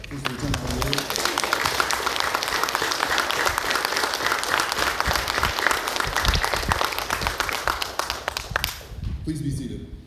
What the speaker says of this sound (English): Can I get a round of applause for the honor guard detail and First Lieutenant Moore?